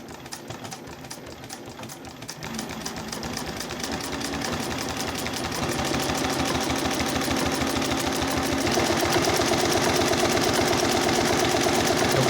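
A Dürkopp-Adler 366-76-12 industrial sewing machine running up to its maximum speed of 500 stitches per minute, a rapid, continuous mechanical clatter that builds steadily louder and faster, close and alone.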